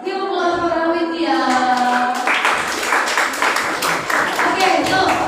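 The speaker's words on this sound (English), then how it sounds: "Give a applause for Awitya." Schoolchildren in a classroom applauding a student, a chorus of young voices rising into dense, steady clapping that keeps going at close range.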